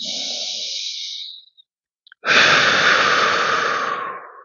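Deep breathing during a rock back alternate breathing exercise: a long, airy breath in, a short pause, then a fuller, louder breath out, close and alone with no talk.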